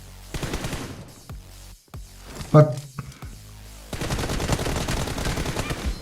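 Automatic gunfire in the PUBG Mobile video game comes in rapid bursts split by a brief pause, with a few sharper shots in the middle. A steadier burst of fire follows, and a voice is faintly present.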